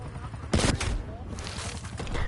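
Hostile sentry turrets fire in Call of Duty Cold War, a short burst of rapid gunfire punching in mid-clip over a busy game mix and background chatter.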